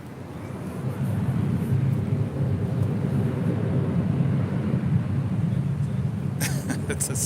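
An airliner taking off from runway 24 left at LAX: a heavy, sustained low engine roar that holds steady for several seconds, heard from a distance with faint voices over it.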